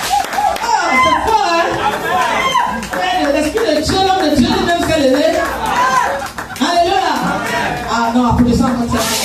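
A church congregation claps along during a worship service, steady rhythmic applause mixed with chatter and voices over most of the stretch, loud and close.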